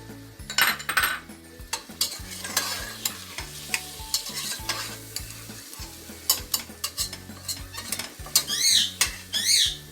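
Bitter gourd and onion sautéing in a pan, with a spoon scraping and clinking against the metal over a low sizzle, close and busy, irregular strokes throughout and no speech.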